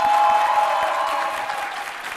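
Children seated up in the stands of a televised Hindi debate show clap together, a steady, fairly loud patter of applause that slowly tapers off.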